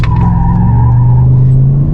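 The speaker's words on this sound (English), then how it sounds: "We spun the tires, got on it the exact same." A lifted 2019 Chevrolet Silverado RST pickup launches hard, with a loud, close engine drone under a rising squeal of spinning tires over two seconds.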